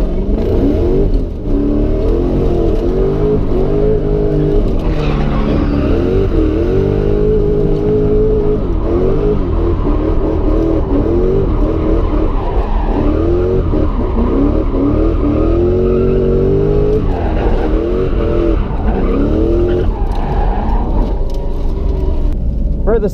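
A drift car runs a lap at an import drift event, its engine revving hard through rising and falling pitch sweeps, loud and close throughout the run.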